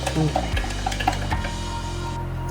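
A homemade Horlicks mixture is stirred in a pot, with quiet spoon clinks and light scraping against the metal in the first half, fading to a soft, steady background.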